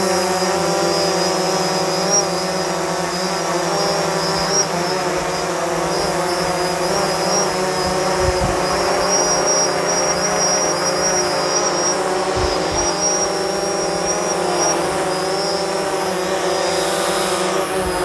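A DJI Phantom 4 Pro drone hovers in wind, its propellers giving a steady high-pitched whine and buzz that holds throughout, with occasional low gusty thumps.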